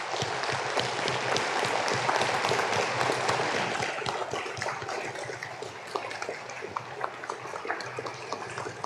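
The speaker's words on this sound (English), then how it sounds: "could you all stand and please give a big round of applause to all of the students today" Parents, guests and staff at a university graduation ceremony applauding the students, a large hall filled with dense, continuous clapping that stays loud and even throughout.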